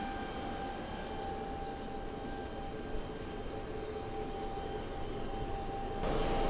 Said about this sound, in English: all this time the APU is running to provide a fresh airflow for the passengers